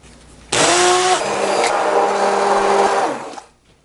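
Blender motor whirring loudly as it purees diced tomatoes with allspice, starting abruptly, running steadily for about three seconds with a slight pitch drop as it loads, then cutting off.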